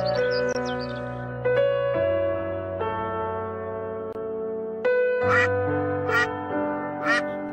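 Cartoon ducklings on a duck farm give bright, repeated quacks and chirps over a sustained musical background, several calls clustered toward the end.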